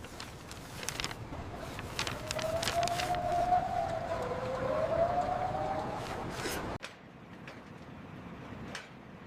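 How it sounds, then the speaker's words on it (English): Sirens wail across a city, a rising and falling tone that swells and fades over several seconds against a noisy urban background of clatter, then cuts off abruptly, leaving quieter street ambience and no talking. "the sound of sirens filled the air."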